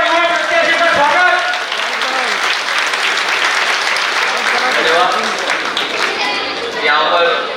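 A large crowd at a Congress party mayoral campaign event gives loud, sustained applause to welcome a young candidate. Dense clapping fills the whole stretch, with scattered shouts and voices rising through it.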